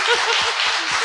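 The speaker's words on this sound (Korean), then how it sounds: "박수!" A crowd applauding at a Korean political talk show, a dense continuous wash of clapping, loud and close throughout the short burst.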